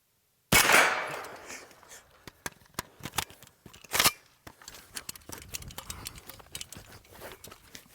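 Two sharp reports from a Kalashnikov USA KR-9 fired outdoors, one with a ringing decay and a second about three seconds later, separated by a scatter of small metallic clicks and handling noises.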